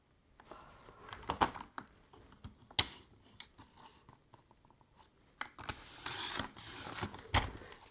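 Cardstock is cut for a paper craft project with a series of quiet clicks, snips and scraping strokes, sporadic and close, followed by a louder rasping run of cutting near the end.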